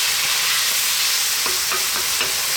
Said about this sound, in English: What we want is to cook those tomatoes down and get them kind of pureed.